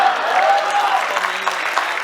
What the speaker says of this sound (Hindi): तालियां जोर से बज गई